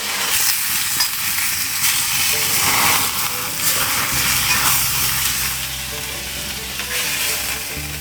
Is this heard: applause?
no